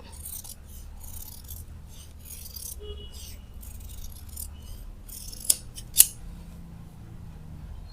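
Scissors snip through blouse lining fabric in a run of short, crisp cuts, close and clear, ending with two sharper clicks of the blades.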